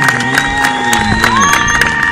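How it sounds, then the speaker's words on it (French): Crowd applauding and cheering a BMX rider at an outdoor event, rhythmic claps and shouts rising under a whistle-like tone and background voices. "Allez, on peut l'applaudir là."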